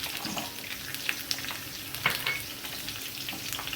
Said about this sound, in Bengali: এখানে হচ্ছে এক টুকরো আদা ভাজছি